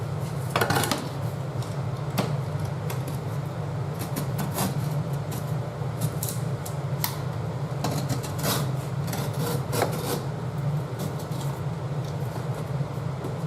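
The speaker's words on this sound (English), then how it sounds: "you take the utility knife and I'm going to trim this little lip on here that this piece clicks into" A utility knife trims the lip of a laminate floor plank, giving repeated close scraping and rasping strokes over a steady low hum of room noise.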